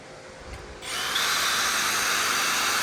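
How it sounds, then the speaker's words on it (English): A power drill whirs up after a brief quiet moment and keeps spinning steadily at a high pitch, loud and close, turning a speedometer cable on a Toyota 22R five-speed transmission. "Our drill spins at 90 miles an hour."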